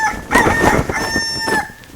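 A backyard chicken clucks and gives a drawn-out crowing call close to the microphone, a couple of loud throaty bursts over a quiet background.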